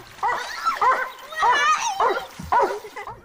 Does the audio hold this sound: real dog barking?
yes